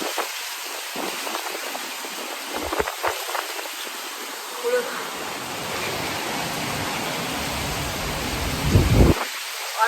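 Heavy rain pours down steadily and close in a dense hiss, while low thunder rumbles roll through the middle and swell again near the end.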